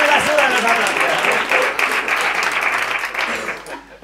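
A stand-up comedy audience claps and cheers loudly and continuously, the applause fading near the end, with a voice talking over it.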